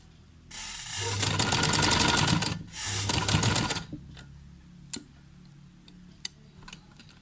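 Sewing machine stitching a square and V shape mixed neckline, a loud close rapid whirring run of about three seconds broken by a brief pause, then quiet with a few isolated clicks.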